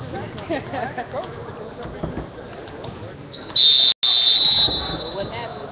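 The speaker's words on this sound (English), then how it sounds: "Refs are blowing the whistle," A sharp, shrill referee's whistle blows in two long blasts with a brief break, over a busy basketball arena crowd and commentary at a semifinal game.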